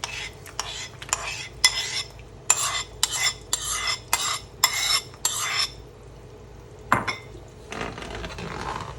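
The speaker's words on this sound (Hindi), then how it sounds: "इसे हल्का सा मिक्स किया" A spoon clinks and scrapes against a pan while stirring a puree and yogurt mixture for chicken nargisi kofta, in a run of quick, evenly spaced strokes, fairly close and clear, with no talking.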